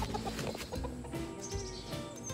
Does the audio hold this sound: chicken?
yes